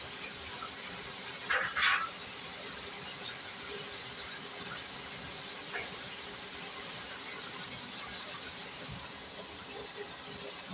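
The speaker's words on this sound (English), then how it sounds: "The chicken is frying real good" Chicken thighs frying in a pan on a home stove, a steady soft sizzling hiss throughout with a couple of brief louder crackles near the start.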